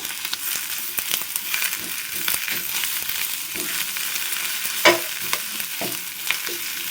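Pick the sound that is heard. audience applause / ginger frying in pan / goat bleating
ginger frying in pan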